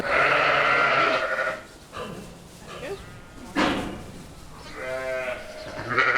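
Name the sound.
lowland sheep bleating on pasture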